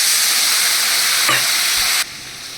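Green chilli and cumin paste cooks with a splash of water in a pan, a loud, dense, close hiss of sizzling that holds steady and then abruptly drops to a softer sizzle near the end.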